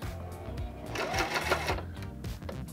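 Sewing machine stitching a comb onto a lace front wig, sewing forward, then backward, in a steady rapid mechanical run, close and fairly quiet, with no talking.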